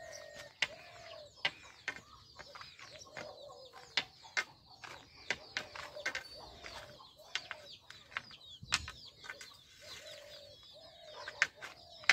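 Hens clucking and cooing in short repeated calls inside a coop, with occasional wing flaps and rustling, moderately close in a quiet enclosure.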